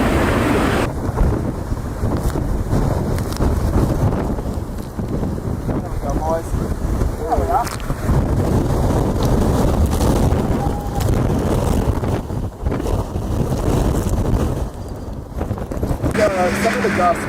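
Strong gusts from Hurricane Laura roar continuously across the microphone, a loud, rumbling, buffeting wind that never lets up, with people talking underneath.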